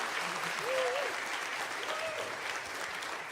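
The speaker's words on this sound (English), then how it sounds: "Give them another round of applause." An audience at a live Nashville-style music show applauds, a steady wash of clapping heard from a distance. A voice speaks briefly over it.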